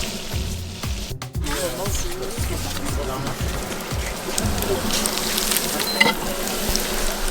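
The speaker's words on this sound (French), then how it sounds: "l'ail en le faisant légèrement rissoler, ça va lui apporter" Garlic browns lightly in a pan with a steady close sizzle and crackle, joined by scraping stirs, while someone speaks over it.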